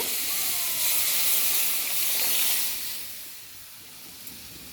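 Lentils for a spinach dal poured into a hot pan, giving a loud, steady steam-like sizzling hiss that holds for a few seconds, then fades down to a quieter simmer with a small knock at the end.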